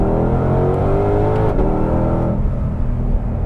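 In second gear under manual mode, the 2020 Ford GT500's engine revs upward in a loud, rising roar heard from inside, then eases off into a lower steady drone after the shift.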